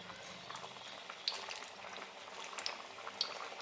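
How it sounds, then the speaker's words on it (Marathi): Khaja pastries going into hot oil in a kadhai make a steady, dense bubbling fry with a few sharp crackles and pops near the end, heard up close with no one talking. "आता तेल कडलेलं आहे आता आपण सगळे खाजे तळायला सोडायचे तेलामध्ये"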